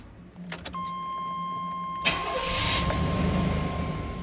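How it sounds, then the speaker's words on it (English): A 1988–1995 GMC/Chevy C/K pickup engine, just fitted with a new fuel pump, cranks briefly with a few clicks and a chime, then fires almost at once and settles into a steady idle close by. "let's start the truck and make sure everything runs and I don't see any visible leaks"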